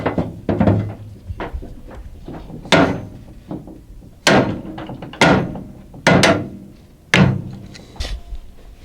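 Hammer blows punching a stuck shear pin bolt out of a brush cutter, about ten sharp metallic strikes at uneven intervals, close and loud, with brief ringing after each hit and no talking.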